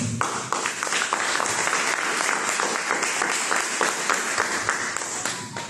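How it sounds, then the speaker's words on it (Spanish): Sustained applause from an audience fills the whole stretch, dense and steady clapping at fairly even loudness with a faint murmur of voices beneath. "Lo vamos a recibir con fuertes aplausos"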